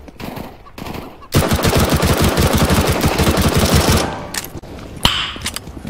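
Automatic gunfire from a CS:GO match rattles out in a loud, rapid burst of around three seconds, with scattered shots and game effects before and after.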